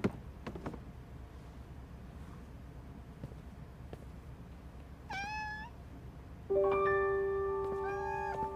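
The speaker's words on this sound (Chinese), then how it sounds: "小猫咪，" A cat gives a single short meow in a quiet indoor scene of a TV drama, followed by sustained tonal sounds.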